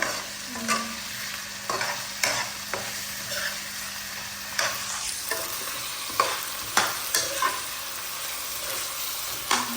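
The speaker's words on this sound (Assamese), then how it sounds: "এইখিনিতে ভাজি লওঁ।" Ginger-garlic paste fries in a pan for a duck curry, a soft continuous sizzle broken by regular spoon scrapes and stirring knocks.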